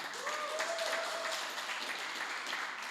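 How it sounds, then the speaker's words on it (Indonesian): A church congregation at an Easter Sunday service gives a round of applause, a dense, even wash of clapping throughout, with a brief faint voice or tone near the start. "Kasih tepuk tangan."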